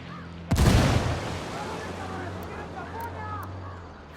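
A frag grenade goes off in Ghost Recon Wildlands as a single loud, close blast, then a long rumbling tail with scattered distant gunfire cracks, and soft voices under it.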